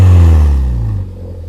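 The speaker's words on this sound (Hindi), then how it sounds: "साइलेंसर में एक बार बोल देता हूँ ऑन करने के लिए, आवाज़ सुनना" A modified seven-year-old Hyundai i10 with an aftermarket silencer, giving a loud, deep exhaust rumble at low rpm up close that fades and settles into a quieter idle within about a second.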